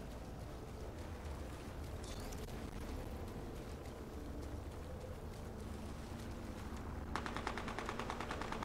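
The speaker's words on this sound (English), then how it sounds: "he's shooting again" Enemy gunfire in an online shooter game, a steady dense rattle of rapid shots with a mechanical, engine-like rumble underneath, continuous throughout and growing sharper near the end.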